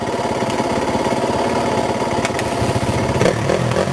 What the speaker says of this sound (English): let's see if we can get the Honda running